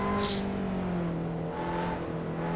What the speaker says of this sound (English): we're going to downshift from 5th to 4th to 3rd, and then to 2nd through this left-hander